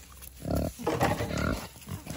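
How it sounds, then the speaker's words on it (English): Vietnamese potbelly pigs grunting at a sanctuary, a few low, rough grunts close by, with one longer drawn-out grunt in the middle, and no talking. "So Petunia and Daisy are both Vietnamese potbelly pigs"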